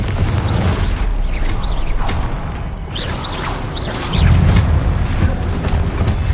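Repeated Confringo blasting-spell explosions in Hogwarts Legacy, loud booming hits with whooshing magical streaks over dense game combat noise, one heavier blast landing near the end.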